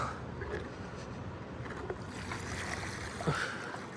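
Water is poured from a bucket onto newly planted trees at a home, making a steady, fairly quiet gushing and splashing with a few small sloshes.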